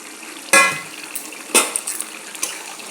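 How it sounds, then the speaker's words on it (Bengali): A metal lid lifts off a pot of boiling water for a fish and potato curry, two sharp clanks a second apart followed by light rattles over a soft bubbling background. "আমার জল ফুটে গিয়েছে, আমি ঢাকনাটাকে তুলে নেব"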